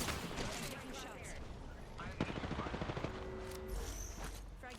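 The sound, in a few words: gunfire in the video game Apex Legends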